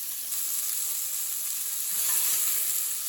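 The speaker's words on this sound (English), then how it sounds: "That's the last of the beef cubes, browned off nicely." Seasoned, floured beef cubes browning in a hot pan give off a steady, close sizzle that swells slightly near the end, with no talking.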